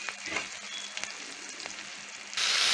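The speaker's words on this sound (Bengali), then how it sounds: "তো এখন এটা পেঁয়াজটাকে আমার একটু সুন্দর করে ভাজা ভাজা করতে হবে" Sliced onions sizzle steadily in hot oil in a pan on a clay stove, with a few sharp spatter pops and a louder hiss rising at the end.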